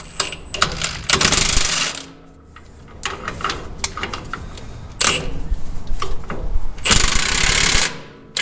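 Bolts are driven back down on a custom International Loadstar truck build in three or four loud, rattling power-tool bursts, with quieter shop clatter and pauses between them.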